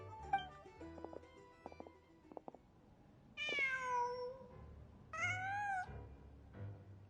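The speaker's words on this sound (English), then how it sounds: "Huh. Just a cat." A cat meows in the Genshin Impact video game, two drawn-out, close meows with a shorter third one trailing after, preceded by soft footsteps and light tapping sounds.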